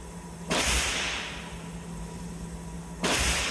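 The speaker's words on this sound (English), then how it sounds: "It is kind of loud in here, sorry, it's shooting on the other side" Two sharp, loud gunshot blasts about two and a half seconds apart at an indoor shooting range, each with a ringing decay, over a steady background hum.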